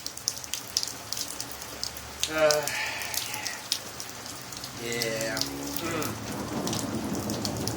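Steady rain patters on surfaces outdoors during a lightning storm, a constant close hiss with scattered drops, while a few short voiced exclamations break in over it.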